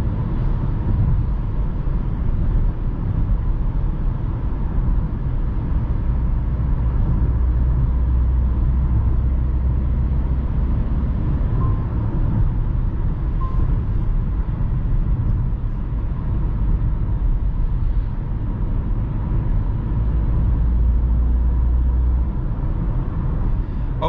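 Steady wind and road roar inside a car with automatic transmission cruising at highway speed, a constant broadband hiss over a low rumble with no talking.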